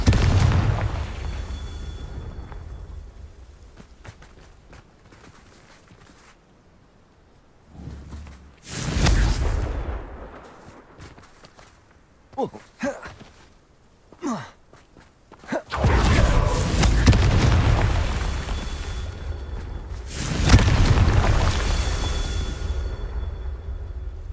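Repeated Confringo fire-spell blasts in Hogwarts Legacy erupt as loud booming explosions in several bursts, separated by quieter stretches of footsteps, whooshes and sparse game ambience.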